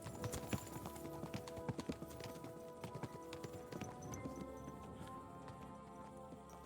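Horse hooves clip-clop in the medieval game Kingdom Come: Deliverance II, a quick, uneven run of faint, hollow hoof knocks that goes on throughout.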